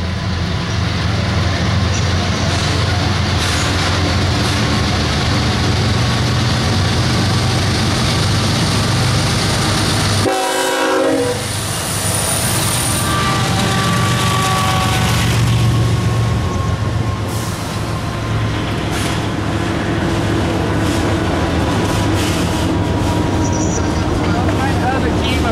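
CSX freight train Q288 led by locomotive 3411 passes loud and close at River Junction in Decatur, Alabama, a steady roar of engines and rolling wagons lasting throughout, with a brief horn-like tonal burst midway.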